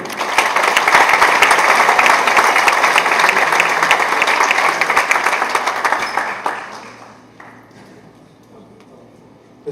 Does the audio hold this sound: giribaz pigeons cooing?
no